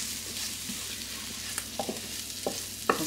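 Onion frying in hot oil gives a soft, steady sizzle close by, with several light stirring scrapes and taps breaking through.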